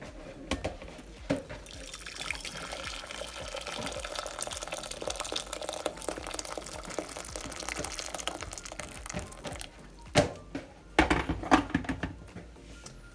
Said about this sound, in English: I'm going to go ahead and get some hot water, which I've been boiling in the kettle.